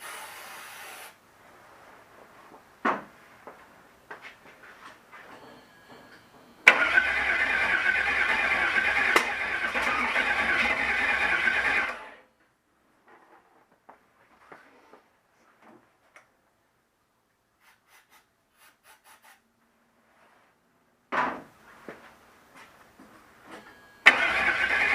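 A 1975 Chevy Nova engine, freshly installed and primed with starter fluid, cranks with ticking bursts, then catches and runs loudly for about five seconds before cutting off; later short crank attempts follow.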